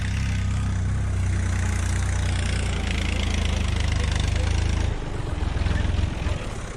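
A tractor engine idles steadily with a deep, rumbling low throb, close by and loud, its tone shifting slightly near the end.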